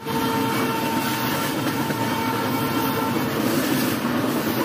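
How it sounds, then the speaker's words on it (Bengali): A Padatik Express passenger train out of Kolkata rolls along at speed, a loud, steady rumble of wheels and carriage noise filling the whole stretch without a pause. "টাইম মতো ট্রেনটি প্ল্যাটফর্মে দিয়ে দিল ঠিক 11:20। রওনা দিল গন্তব্যস্থলের দিকে।"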